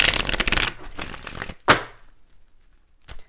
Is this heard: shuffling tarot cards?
yes